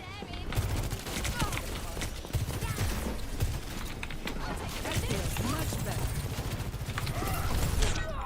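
Overwatch 2 match gunfire: rapid bursts of weapon fire and clattering shots from the game, continuous and busy throughout, with a voice talking over it.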